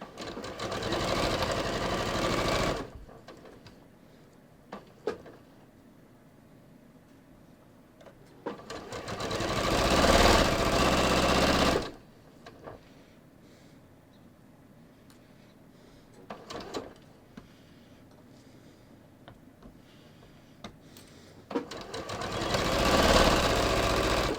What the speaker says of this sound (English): I'm going to organize my neckline so I can stretch the knit strip to match the neckline. And I'm going to keep sewing.